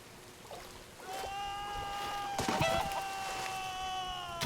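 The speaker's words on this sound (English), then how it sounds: "The chicken!" A chicken in Minecraft Story Mode gives two drawn-out, squawking clucks about a second apart, fairly close, over a quiet steady background.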